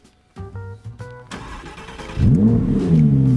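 Audi R8 V10 Decennium cranks and fires up, a few short blips followed by a deep, swelling rev of the V10 that rises and holds, close and increasingly loud, no voices.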